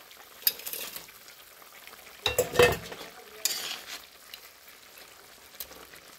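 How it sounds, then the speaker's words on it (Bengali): Fried fish pieces go into a boiling curry with a few clattering splashes and utensil knocks over a quiet bubbling simmer, the loudest bursts coming in the middle. "এবার ভেজে রাখা মাছগুলো দিয়ে দেবো।"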